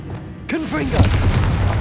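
A Confringo blasting spell goes off in Hogwarts Legacy, a heavy boom that lands just after a character's voice casts it, with the low rumble rolling on beneath.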